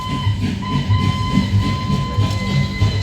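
A train effect in a light and sound show at the Cellular Jail in Port Blair, Andaman: a loud rhythmic clatter of wheels on rails with a sustained whistle tone running over it.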